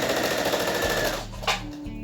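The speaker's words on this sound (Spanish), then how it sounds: "Entonces vamos a ir cosiendo" A sewing machine runs steadily while stitching bias binding onto fabric, a fast close mechanical whir that slows and stops partway, then a short click and low motor hum. No one speaks.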